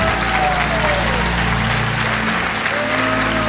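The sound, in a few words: audience applause and hand clapping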